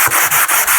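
Wood is sanded by hand with sandpaper in four quick, close back-and-forth strokes, each a loud rasping scrub with brief pauses between.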